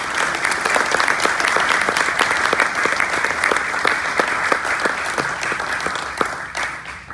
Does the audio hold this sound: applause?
yes